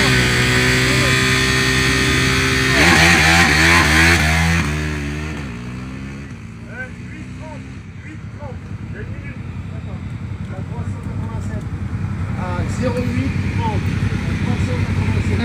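Motorcycles on a road rally special stage start in Charente, France, rev loudly nearby with rising engine tones, then one pulls away and fades as another engine rumbles and builds again, with people talking over it.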